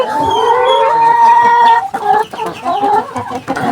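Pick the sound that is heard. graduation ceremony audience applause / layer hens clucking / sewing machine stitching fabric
layer hens clucking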